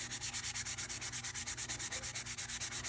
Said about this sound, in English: So I'm just going to keep sanding and rotating.